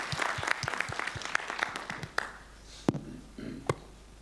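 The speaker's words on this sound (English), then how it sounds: "If you can give applause one more time." Audience applause at a library-systems developers' conference session, a burst of clapping from a modest crowd that thins out to a few scattered claps over about four seconds.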